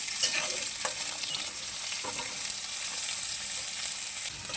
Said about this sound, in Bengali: এখন নাড়াচাড়া করে ভেজে নেব